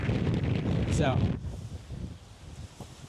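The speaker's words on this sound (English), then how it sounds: "Wow, it's really windy." Outdoor wind buffets a microphone in a rough, low rumbling gust that dies down after a second or so, followed by a person speaking over lighter wind.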